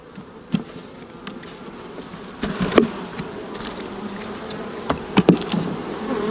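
Honey bees buzz steadily and close during a fall beehive split, with individual bees droning past over a dense hum, along with occasional light knocks of frames and boxes.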